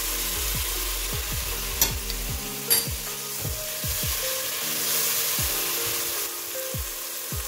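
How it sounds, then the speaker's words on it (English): Soy sauce hitting a pan of oxtail stew, a steady close sizzle broken by repeated scraping stirs and a couple of sharp utensil clinks against the pan, with no voices. "Now I'm adding 2 spoons of soy sauce."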